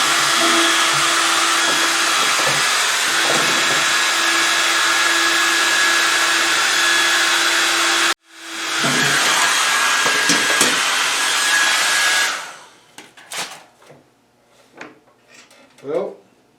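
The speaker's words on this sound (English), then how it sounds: "I have a little hairdryer here, try to warm up this pump," A small hair dryer blows steadily and loudly for about twelve seconds, aimed at a pump to warm it beside a Mr Heater 50K BTU heater, with a brief cutout near eight seconds before it stops and quieter handling noises follow.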